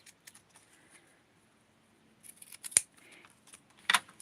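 Scissors snip through paper while cutting out a small 6-inch doll halter dress and tights pattern, a few quiet isolated cuts followed by two sharper, louder snips close by, with no talking.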